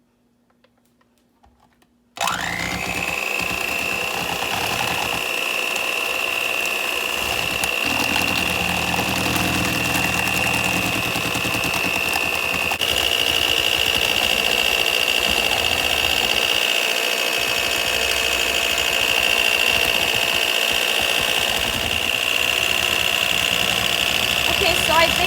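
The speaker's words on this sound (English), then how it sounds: "I'm going to mix this for about 4 minutes until it becomes frothy and fluffy." An electric mixer whips dalgona coffee until frothy, its steady motor whine starting abruptly after a quiet moment and running loud and unbroken to the end.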